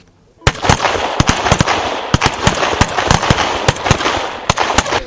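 Automatic rifles fire at a military shooting range in Vakulentsi, Poltava region, during weapons training for civilian men: loud, close, sharp cracks in irregular rapid bursts, starting abruptly after a brief silence and continuing throughout.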